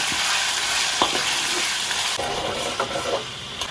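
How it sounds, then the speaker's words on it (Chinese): Scallion, ginger and garlic with broad bean paste and soybean paste stir-fry in hot oil, a steady close-up sizzle with occasional scraping and clacking of the spatula against the wok. "葱姜蒜，2勺豆瓣酱，2勺黄豆酱，爆香炒出红油"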